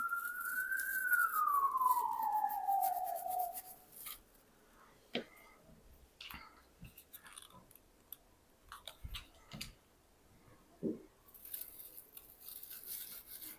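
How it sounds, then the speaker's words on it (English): A distant police siren wails outside an open window and slowly falls away at the start, followed by a quiet room with scattered small clicks and rustles. "Sorry if you can hear sirens in the background."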